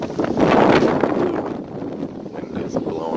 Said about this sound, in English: Wind is blowing. Picking up.